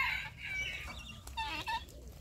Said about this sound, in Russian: Петушок кукарекает.